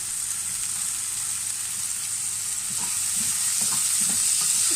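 Poha cooking in a frying pan as green chillies go in, a steady loud sizzle of hot oil with faint stirring scrapes and light clinks toward the end, no voices.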